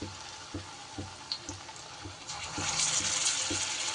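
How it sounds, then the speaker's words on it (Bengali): Ridge gourd pieces dipped in batter bubble in hot oil over medium-low heat, a steady close sizzle that swells louder midway, with faint regular taps underneath. "তেলটা বেশ সুন্দর করে গরম হয়ে গেলে এইবার আমি এই যে একটা একটা ঝিঙের টুকরো ব্যাটারে ডুবিয়ে এইভাবে"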